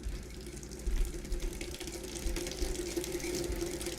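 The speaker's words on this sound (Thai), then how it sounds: "เสียงคนเปิดน้ำดังจอกเลย" Water running steadily from a tap in a house, a continuous close rushing flow with no voices.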